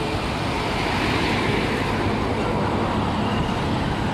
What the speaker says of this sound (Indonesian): Truk tangki.